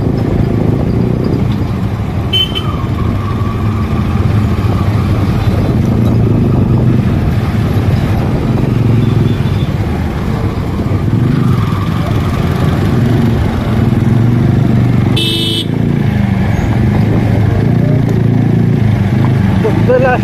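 Motorcycles crawl through a traffic jam on a highway toward Akilpur sea beach, giving a continuous close engine drone. Wind buffets the microphone throughout, and a couple of brief sharp sounds, like a horn, cut through.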